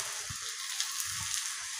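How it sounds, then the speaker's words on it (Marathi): Jowar dhapate flatbread with a little oil and water on a hot aluminium tawa, giving a steady close sizzle with faint low thumps. "आता तवा चांगला तापलेला आहे तर मी त्याला थोडंसं तेल आणि पाणी थोडंसं टाकलेलं आहे"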